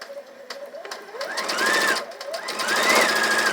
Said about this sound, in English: I'm going to sew a scant 1/4 inch on both sides of the diagonal line